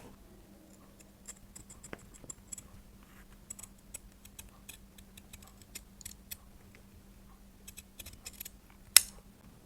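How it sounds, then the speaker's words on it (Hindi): Scissors snip through fabric along a traced collar line, a quiet series of short, irregular crisp cuts close by, with a sharper clack near the end and no talking. "अब यहाँ से इसको कटिंग कर लेंगे इसी निशान पे"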